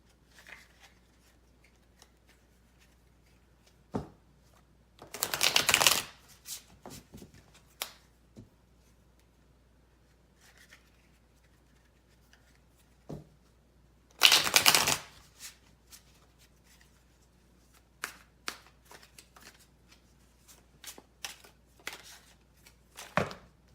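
A deck of oracle cards being riffled and shuffled, two loud crisp rippling bursts several seconds apart, with scattered softer taps and card handling in between in a quiet room.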